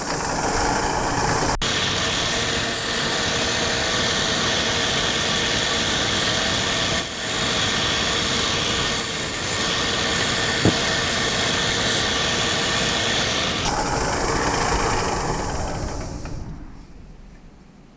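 A belt sander runs continuously at close range while shaping a CNC router dust boot part, giving a loud, steady whirring roar that holds for the whole stretch, then cuts off and winds down at the end.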